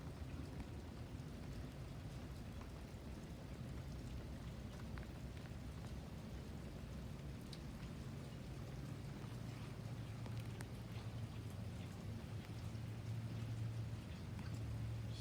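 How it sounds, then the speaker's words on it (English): Steady rain falling outdoors, a continuous soft hiss with a low rumble, unbroken and even throughout. "There you go. You can see this rain."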